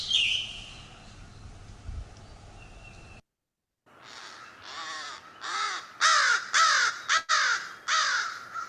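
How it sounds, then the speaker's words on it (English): A crow's recorded calls play back: after a faint earlier whine and a brief gap, a series of loud, harsh caws repeats in quick bursts, close and clear. "No, there was a young crow it's a crow."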